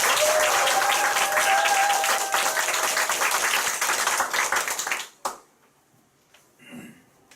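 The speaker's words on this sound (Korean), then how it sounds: "좋은 강의해주신 정헬렌 사장님께 큰 박수 부탁드립니다" An audience gives loud sustained applause after a business lecture by Helen Jung, with many hands clapping densely for about five seconds before stopping abruptly into near silence.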